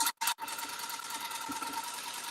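Rug tufting gun buzzing steadily and fairly loud, a continuous mechanical whir that cuts out briefly near the start before running on without pause.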